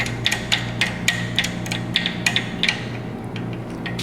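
A socket wrench tightens a cylinder head bolt, giving a steady run of close, sharp ratcheting clicks at an even pace over a faint background hum.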